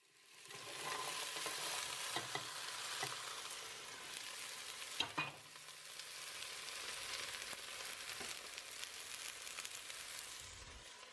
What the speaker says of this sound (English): I'm just going to go ahead and add the vegetables to the same pan that I cooked the meat in.